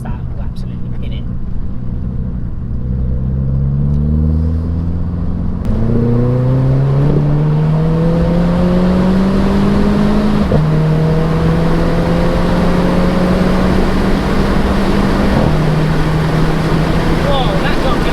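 A Renault Clio RS Trophy accelerates hard from low speed, its loud engine note climbing through several gear changes close up while someone talks over it.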